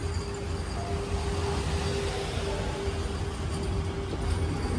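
A Vande Bharat Express train coach at Srinagar station, the rearmost coach C7, makes a steady, dense rumble with a faint whine running through it, continuous and fairly close, with no one talking.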